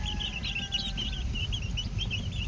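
Backyard chickens call close by with a run of repeated high, chirpy peeps over a low, rumbling background. No one talks.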